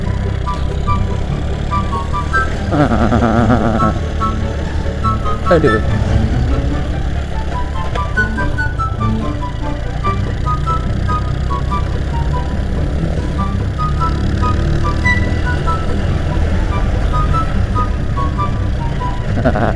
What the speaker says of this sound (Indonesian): Nah, ini tanjakan ini cuy. Tanjakan ini, waduh. Nah, kan. Motorannya berisik.